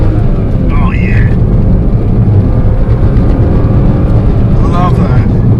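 BMW E36 328i Sport engine roaring loud and steady under hard acceleration, with road and wind noise filling the cabin and a brief voice over it.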